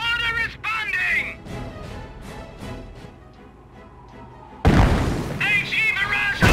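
Explosive booms and blasts in the World War II strategy game Company of Heroes, Operation Market Garden, one heavy burst arriving late, with game unit voices talking over the action.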